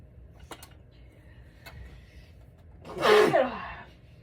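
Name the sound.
sneeze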